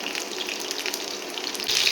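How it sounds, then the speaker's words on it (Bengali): Rice-flour-coated chicken pieces for dry chilli chicken fry in oil, a dense, even bubbling hiss heard up close and fairly loud, with no voices. "দেখুন ভাজছি আমি এটা।"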